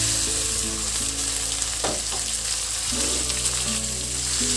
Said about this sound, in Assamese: অকণমান ভাজিলোঁ